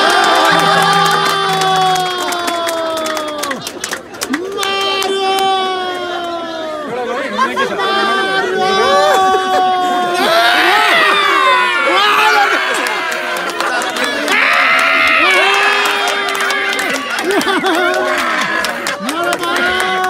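A man at an outdoor park variety event with a lottery draw imitates a donkey's bray in repeated wavering, drawn-out calls, while a lively crowd chatters, laughs and cheers loudly around him.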